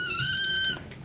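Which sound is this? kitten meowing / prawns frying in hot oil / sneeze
kitten meowing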